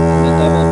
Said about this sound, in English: Cello even longer.